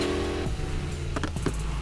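Supercharged 1965 Ford Mustang engine in the racing game Need for Speed Heat, a steady low rumble with a brief rise in revs near the end, heard close and alone.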